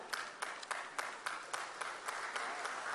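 Applause from an audience at a virtual launch event for small and medium enterprises in Madhya Pradesh, a steady wash of many hands clapping with a few sharper claps standing out, moderately faint and continuous.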